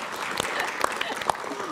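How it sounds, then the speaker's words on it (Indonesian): Light scattered clapping from a studio audience on a psychology talk show, a few sharp claps over murmuring and talk, brief and fairly faint. "Mau tepuk tangan boleh banget loh ya."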